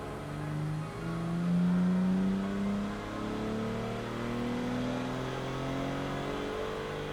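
A stock, all-wheel-drive BMW G80 M3 or G82 M4 engine revs steadily upward through the gears on a dynamometer, a loud continuous droning roar rising in pitch, with no voices.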